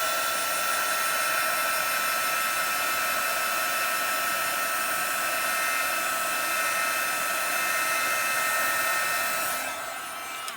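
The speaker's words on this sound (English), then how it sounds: "when you heat this from the top, it allows the heat to bounce back through" Heat embossing gun blowing hot air steadily over the top of a paper card, a loud continuous whining hum with a high tonal whistle, holding constant for about ten seconds before tapering off at the end.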